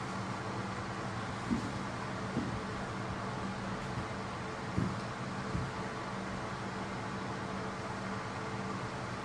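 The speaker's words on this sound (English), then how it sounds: "Sorry about the loud noise. That's the heater," Heater blowing inside a car on a cold day, a steady, loud broadband rush of air with a few faint knocks over it.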